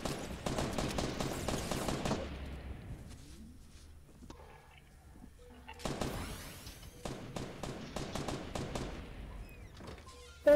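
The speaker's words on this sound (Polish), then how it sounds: "Kto tam strzela?" Bursts of automatic gunfire in a team battle-royale style video game, loud rapid volleys at the start and again toward the end, separated by a quieter stretch with faint game sounds.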